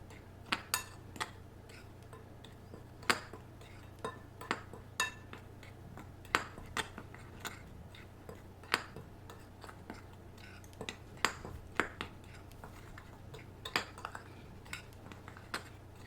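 A utensil mixes chicken nugget batter ingredients in a bowl, producing a series of irregular light clinks and scrapes against the bowl, close and fairly quiet, with no talking.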